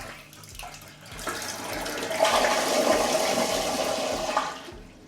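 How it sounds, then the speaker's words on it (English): A smart toilet flushing in a bathroom: water rushes in and swirls down, building to a loud sustained gush before tapering off, heard alone and close. "I'm gonna flush the toilet."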